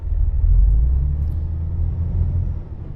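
A truck in a driving video game idles with a deep, steady engine rumble that swells briefly as it is put into gear, then settles into a continuous low drone as it pulls away.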